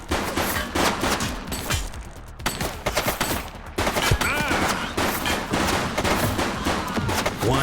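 Rapid gunfire bursts from the police video game The Precinct, loud, close and near-continuous, with dense overlapping shots and a brief lull partway through.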